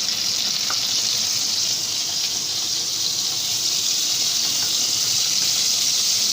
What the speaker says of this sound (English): Now in a non-stick wok, we will just take one and a half teaspoon of butter.